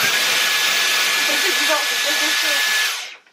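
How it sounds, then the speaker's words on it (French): A household vacuum cleaner runs loud at its maximum setting, a steady broadband roar close by with faint voices under it, before it shuts off and winds down at the end. "un aspirateur c'est bruyant, je trouve, d'origine"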